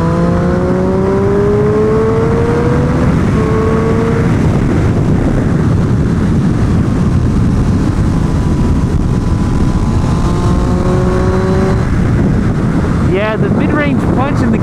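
A Triumph Street Triple R motorcycle on a race track, its engine revving up and down through gear changes with rising and falling whines, heavy wind rush over the microphone throughout.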